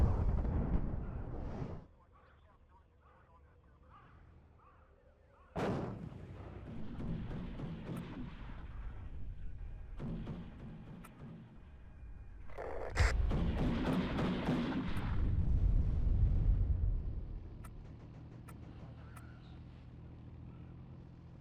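Leopard tanks firing cannon shots in the video game WARNO, several booming blasts with rumbling tails among ongoing battle noise, with someone talking over parts of it.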